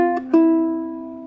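A ukulele plays an opening riff, a couple of quick plucked notes followed by a ringing note that slowly fades, close and alone.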